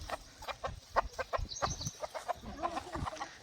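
A rooster clucks repeatedly in short, quick bursts, fairly close, with faint background noise and no talking.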